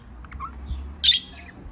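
Rainbow lovebirds kept by a breeder give a few short chirps and then one sharp, louder squawk, close by and alone over faint low background hum.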